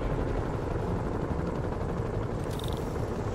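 Helicopters in the video game Marvel's Spider-Man: a steady, loud low rumble with a throbbing rotor-like drone, constant throughout, with a brief high electronic tone near the end.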